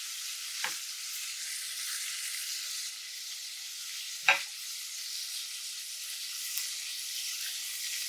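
Onion and garlic sautéing together in a pan for chicken paprikash give a soft, even sizzle, broken by two sharp utensil taps against the pan.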